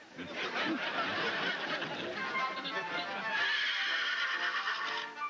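A horse gives a long, loud, wavering whinny close up, its shrill neigh trembling and fading over several seconds.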